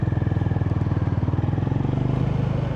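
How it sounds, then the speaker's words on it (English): The single-cylinder thumper engine of a Honda GB350S motorcycle runs close by with a rapid, even train of loud low pulses, steady throughout with no other sounds. "Just got that single kind of thumper engine."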